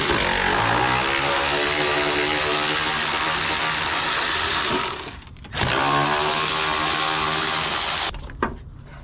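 A 1967 Cadillac engine cranks and catches, settling into a loud, rough, rumbling run with a brief dip and surge midway, ending in a sharp cutoff and a short knock.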